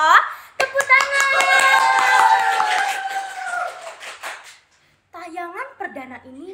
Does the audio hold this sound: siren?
no